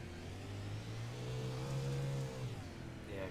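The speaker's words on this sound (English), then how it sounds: "A little more engine noise there for us." A race car engine revs hard from the cockpit during a Coast2Coast Racing League event, with a loud, steady roar whose pitch climbs and holds before easing off near the end.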